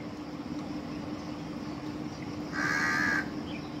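A single crow caws once, short and fairly clear, over a steady low background hum.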